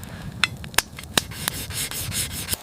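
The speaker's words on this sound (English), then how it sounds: "Using a rough stone to grind out a small nick near the tip of the blade while sitting on a log." A rough stone grinding a small nick out near the tip of a Viking sword blade, a close, dry rasping rub with several sharp scraping strokes at an uneven rhythm.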